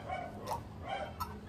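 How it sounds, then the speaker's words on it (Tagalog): Several dogs barking outdoors in the distance, a few short yelps and barks spread over a second and a half, faint under a steady background hum. "Maingay yung mga aso sa labas."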